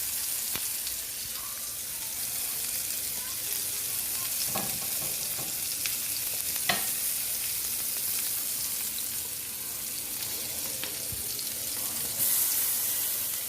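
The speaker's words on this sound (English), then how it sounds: "They're frying like a champ." Gluten-free vegan burger patties frying in a screaming hot pan, a loud continuous sizzle and crackle close up, with occasional scraping taps from a utensil and a brief surge near the end.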